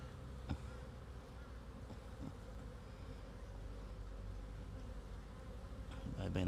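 Korora honey bees buzz around an open beehive during a Varroa mite check, a close, continuous droning hum with a few louder passes near the mic, swelling slightly toward the end.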